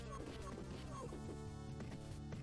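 Doors are smashed in the Punisher game on the Mega Drive, with several sharp crashing hits spaced a half-second or so apart over busy game music.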